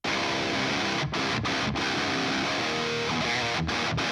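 A 1993 PRS Custom 22 electric guitar on the right channel churns out a thick, distorted metal riff, loud and unbroken apart from several brief, tight rhythmic cutoffs, with no voice over it.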